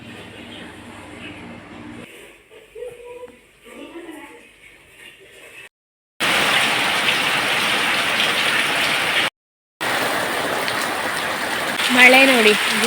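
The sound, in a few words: heavy rain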